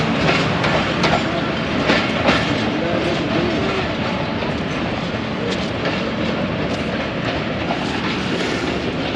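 The Allama Iqbal Express passenger train, running Karachi to Raiwind, departs as a loud, steady rumble with rhythmic clickety-clack of wheels on rail joints, heard close by throughout.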